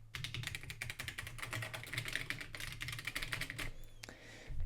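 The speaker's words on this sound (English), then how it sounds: "This keyboard sounds pretty good and pretty nice to type on." Rapid, steady typing on a homebuilt Don Lancaster ASCII computer keyboard gives a close, crisp stream of key clicks, dense and even, then slowing to a few final taps.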